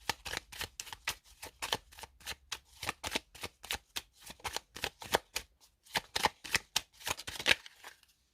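Tarot cards are shuffled close up in a quiet room, giving a long run of quick, crisp riffling flutters with brief pauses and no talking.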